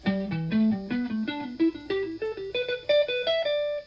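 Single electric guitar notes climb step by step through a pentatonic scale, each picked clearly and evenly, rising in pitch before the last note rings out.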